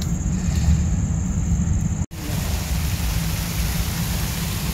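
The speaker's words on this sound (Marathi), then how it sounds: "पाऊस जोरात आलाय" Heavy rain pours steadily on a cricket ground, giving a dense, unbroken hiss. The sound cuts out for a moment near the middle, then carries on just as strongly. No one speaks.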